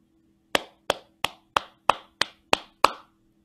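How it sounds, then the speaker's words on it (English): A teacher's hands clap out the blue rhythm in a children's music lesson: eight sharp, close claps at a steady, even pace, with nothing else sounding between them. "I'm going to clap it first, and then it'll be your turn."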